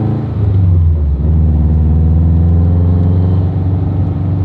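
Subaru WRX STI with a rebuilt engine drives off, a loud, steady low boxer-engine rumble with a constant droning tone and a slight dip before it settles, close and continuous throughout.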